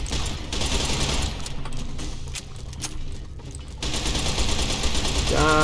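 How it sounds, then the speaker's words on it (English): Rapid bursts of submachine gun fire in Fallout: New Vegas ring out loud and near. A quieter, choppier passage comes midway, then sustained firing resumes, and faint mechanical clinks close it out. "Let's try this submachine gun, I guess."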